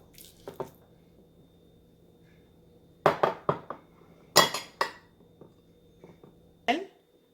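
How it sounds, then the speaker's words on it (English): An unsweetened banana, seeded and cut in two, is mashed in a kitchen, giving a few soft squishes and light clinks in separate bursts with quiet gaps between them. "So now I am going to mash it."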